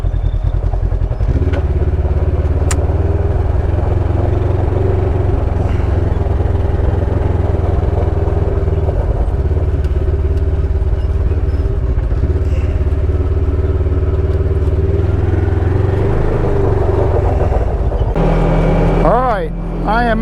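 Polaris RZR side-by-side engine running steadily on Georgia backroads, a loud continuous drone that holds through most of the ride and eases off near the end, with someone talking over it.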